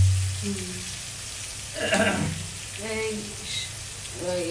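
Onion frying in oil for a pangas fish curry, a moderate sizzle heard close, with a few short tonal sounds and faint background voices now and then.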